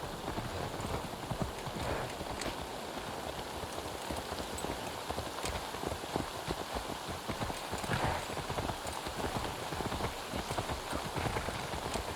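Horse hooves clip-clop steadily in Assassin's Creed Valhalla, a rhythmic walking gait heard over a constant patter of rain, with no talking.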